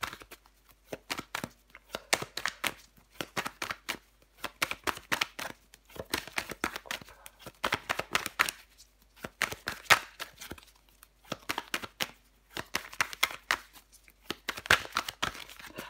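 Tarot cards being shuffled and laid down on a table in repeated bursts of soft paper rustling and flicks, close and quiet, with no talking.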